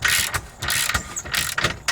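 A torque wrench clicks repeatedly while tightening bolts on a camper tow hitch, giving a series of sharp ratcheting clicks in quick bursts, close and loud, with no talking.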